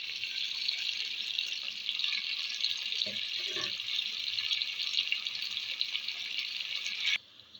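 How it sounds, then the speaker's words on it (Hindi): Water pours continuously into a pan of spices for matar pulao, a steady hissing, splashing stream for about seven seconds that stops abruptly, with a couple of faint knocks partway through and no speech. "हम डाल देंगे थोड़ा सा पानी"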